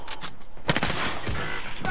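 Sniper rifle shots ring out in the game Warzone, a few sharp reports with crackling tails over a couple of seconds, mixed with low game noise.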